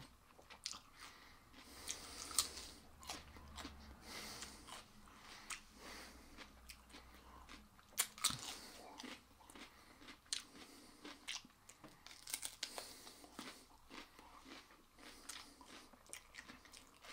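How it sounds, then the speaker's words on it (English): Someone bites into a whole raw cucumber and chews it close up, with repeated wet crunches and squishy mastication over a steady quiet background, no one speaking. "Don't know why you wanted me to eat a cucumber."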